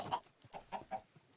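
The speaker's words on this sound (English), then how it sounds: "We have started chickens." Chickens in the Minecraft Stoneblock video game make four short, clear clucks in quick succession, close and alone.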